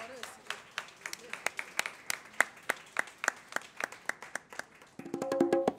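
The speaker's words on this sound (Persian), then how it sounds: "تشویق کنین دوستان صدا بردار" Live audience at a jazz night in a cafe claps in a steady run of sharp, separate hand claps, then a warmer chord of music swells in at the end.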